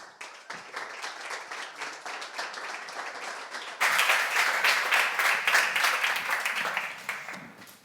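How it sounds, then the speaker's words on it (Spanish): An audience at a talk applauds steadily, the clapping swelling louder and denser halfway through and then fading at the end. "Rebem-los amb un fort aplaudiment."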